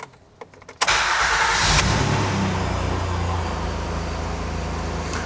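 A 2012 Honda Pilot engine cranks briefly, catches, and settles into a steady, close idle.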